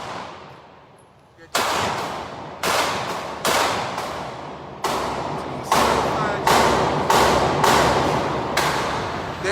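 Eight loud, close gunshots at an outdoor shooting range, spaced about a second apart, each a sharp crack with a trailing echo, and voices talking faintly around them.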